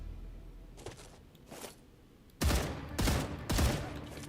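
Gunfire in the video game StarRupture: two faint distant bursts, then three loud close shots or short bursts in quick succession, each a sharp broadband crack with a decaying tail, no talk.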